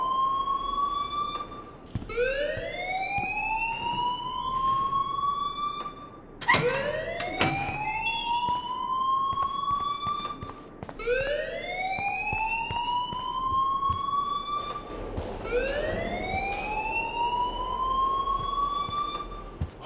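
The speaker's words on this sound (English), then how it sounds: "please turn off that alarm since that's your job" An alarm in the video game Life Is Strange wails in repeated rising sweeps, roughly four long cycles in a row, loud and continuous with no voices over it.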